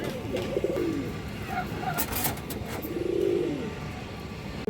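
Pakistani pigeons cooing in a seller's loft, soft repeated low coos close by with faint traffic in the background.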